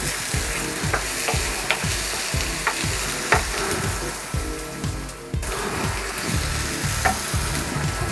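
Garlic and ginger fry with softened onions in a pan for a coconut-based vegetable curry, a dense continuous sizzle broken by regular scraping stirs, close and loud, with no talk.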